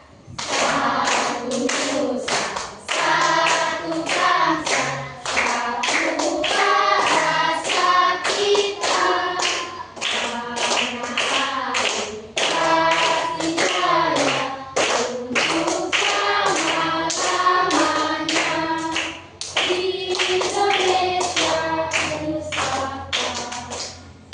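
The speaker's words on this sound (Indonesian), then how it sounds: "Tepuk tangan juga." A class of students claps hands together in a classroom during a mathematics teaching practice, a dense burst of rhythmic clapping that runs loud and steady throughout, with a brief dip near the start and again near the end.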